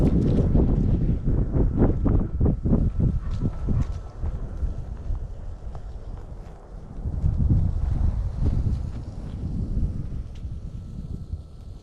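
Strong wind buffets the microphone outdoors at a winter campsite in Woodland Park, Colorado, with loud low rumbling gusts that ease off midway and then swell again, steady throughout with no talking.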